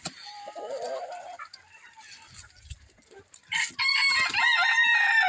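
Backyard chickens, including little silkies, cluck and chatter softly, then a rooster crows loudly and close by, followed by more crowing.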